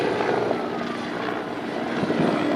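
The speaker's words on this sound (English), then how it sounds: "There's another helicopter." A helicopter flying overhead near the waterfront, a steady droning engine and rotor rumble that stays loud and fairly close throughout, with no talking.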